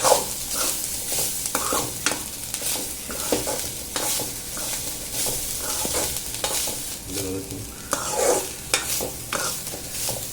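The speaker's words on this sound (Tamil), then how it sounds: "நல்லா கலந்து மிக்ஸ் ஆகிற அளவுக்கு நல்லா வதக்கி விட்டுக்கோங்க." Continuous sizzling of adamant creeper (pirandai) chutney ingredients sautéing in a pan, with repeated scraping and stirring strokes throughout; steady and close, no voices.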